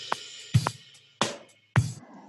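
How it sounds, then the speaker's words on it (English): Logic Pro X's virtual drummer plays a soft, simple beat, with sparse kick and snare hits spaced evenly under light hi-hat, quieter and more restrained, with no voices. "Soft and simple sounds like this."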